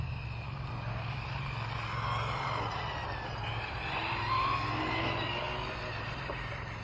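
Continuous whine and rumble of a 4S RC truck motor running on an outdoor track and passing through a wet patch, with a steady electric drone that rises and falls slightly as the truck speeds along.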